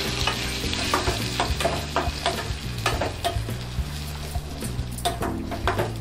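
A ground paste of tomato, dried chilli and salt sizzles loudly in a hot pan for tomato chutney, with a constant frying hiss and repeated crisp scraping bursts from stirring, close up and without talk.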